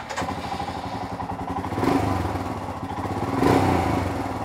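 A 2020 Royal Enfield New Himalayan motorcycle engine fires up and settles into a steady idle close by, with two brief revs swelling the sound.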